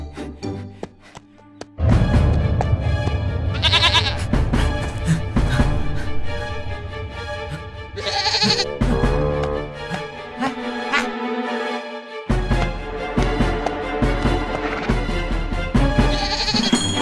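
A cartoon goat bleats loudly in several repeated, wavering cries as it goes on a rampage, heard over busy animated sound effects and music.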